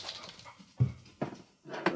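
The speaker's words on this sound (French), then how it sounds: "Donc tu entends des bruits bizarres, c'est le chien qui joue." A dog playing indoors, with bursts of panting and short whimpering huffs in three or four separate clusters separated by brief quiet gaps, close by and moderately loud.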